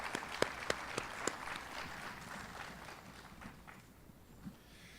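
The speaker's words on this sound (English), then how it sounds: "Let's give the Jazz Ensemble another round of applause." Memorial Day ceremony crowd claps for a jazz ensemble, a few sharp close claps at the start blending into scattered, fading applause that thins toward the end, fairly quiet overall.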